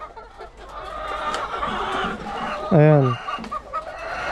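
Chickens cluck steadily inside a coop, with one louder drawn-out call standing out near the middle, while a person speaks briefly over the hen noise.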